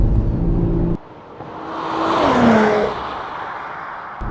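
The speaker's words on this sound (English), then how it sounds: "That engine noise, Yikes. transmission whine, and the exhaust, and everything together is just chef's kiss." A 2023 Audi S5 Sportback pulls away, its engine rising under throttle with a thin transmission whine and exhaust growl swelling to a peak before easing off.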